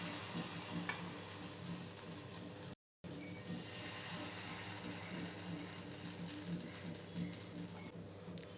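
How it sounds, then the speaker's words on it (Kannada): Oil spread across a hot tawa on a lit stove before making puffed-rice (murmura) dosa, a soft steady sizzle with light scraping, quiet and close, broken by one brief gap of silence. "ಈಗ ಅದ್ರ ಮೇಲೆ ಸ್ವಲ್ಪ ಎಣ್ಣೆ ಲೈಟಾಗಿ ಸ್ಪ್ರೆಡ್ ಮಾಡೋಣ."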